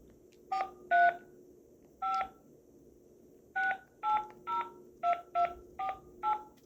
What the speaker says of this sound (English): Now we're gonna do my phone number so y'all can see it.